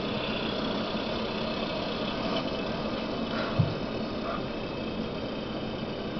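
Tractor engine in GTA San Andreas during a tractor pull attempt, a steady, muffled, knocking idle-like drone with a single brief thump partway through, with no speech.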